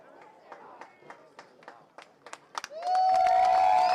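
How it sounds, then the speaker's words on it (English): St. Anthony's boys lacrosse crowd at a game against St. Ignatius, clapping in scattered bursts that build into sustained applause and cheering, with commentary over it. "St. Anthony's crowd starts to clap it up."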